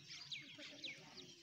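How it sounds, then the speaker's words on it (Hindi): Small village chicks cheep in repeated high, thin peeps, several chirps spaced through the moment, close by with faint background voices. "ये देखे छोटे छोटे चूजे"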